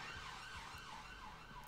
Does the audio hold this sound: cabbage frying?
no